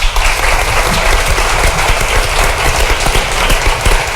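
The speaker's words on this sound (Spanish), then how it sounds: "Por favor, un aplauso para él." Studio audience applauding a sign language interpreter on a TV show, a steady dense wash of clapping held at full loudness throughout with no talk over it.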